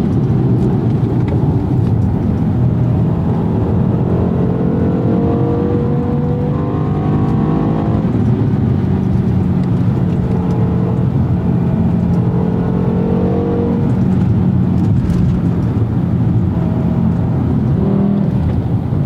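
Loud, steady V10 engine drone inside a 2007 BMW M5 (E60) cabin, rising and falling gently as the motor revs under acceleration.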